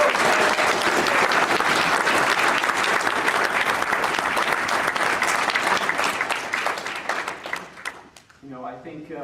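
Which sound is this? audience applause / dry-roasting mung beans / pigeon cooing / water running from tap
audience applause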